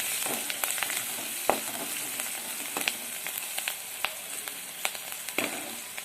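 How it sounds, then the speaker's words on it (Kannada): Green chillies frying in hot oil give a continuous close sizzle, with repeated spoon clicks and scrapes against the pan scattered throughout. "ಮೆಣಸಿನ್ಕಾಯಿ ಚೆನ್ನಾಗಿ ಖಾರ ಬಿಡಬೇಕು ರೀ ಎಣ್ಣೆ ಒಳಗೆ"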